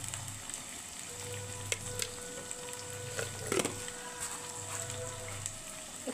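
Mango pickle sautéed and stirred in a pan, giving a soft steady sizzle with occasional scrapes of the spoon, fairly quiet and close, with no talking.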